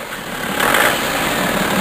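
A BMW xDrive diesel engine revs up, with the injection pump turned up for more turbo boost. A loud, steady, high-pitched mechanical whine rises and holds close by.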